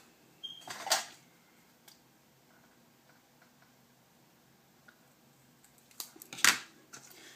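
Scissors cut card paper for an Easter card, two short crisp snips several seconds apart, close and quiet, with faint small handling noises in between.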